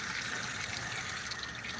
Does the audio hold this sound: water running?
yes